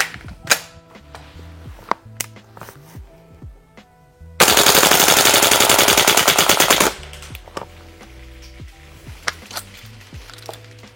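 A G&G MGCR 556 gas blowback airsoft rifle fires a loud, rapid full-auto burst of about two and a half seconds, set among scattered single shots and distant pops at an outdoor range.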